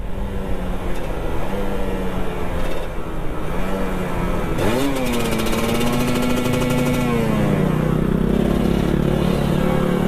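A two-stroke motorcycle engine (the stated RR), still in stock condition, idles with a buzzy rattle, then revs sharply up and holds a high, raspy note before settling back, loud and close.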